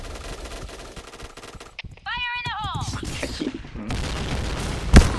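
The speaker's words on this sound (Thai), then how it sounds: "นี่เปิดเอฟเฟกกระสุนนะมันอาจจะดูลกหูลกตาไปหน่อย" Rapid bursts of gunfire with bullet impact effects crackle through a match of the shooter game Point Blank, with a voice and a brief tonal in-game sound mixed in over the shots.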